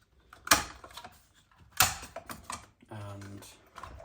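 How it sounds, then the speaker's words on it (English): Clips being unclipped from the head of an Eheim Pro4+ canister filter: two sharp plastic snaps about a second apart, followed by softer rattles and a brief low buzzing scrape, close and fairly loud. "take the head of the filter off the rest of the canister. So remove the clips"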